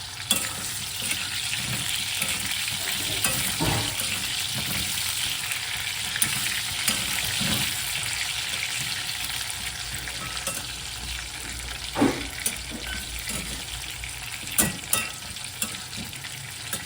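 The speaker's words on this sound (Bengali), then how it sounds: "আমি যা যা সবজি দিই একটু হালকা করে ভেজে দিই" Mixed vegetables lightly frying in a pan for dal khichdi, a continuous close sizzle with intermittent stirring knocks and scrapes, no voices.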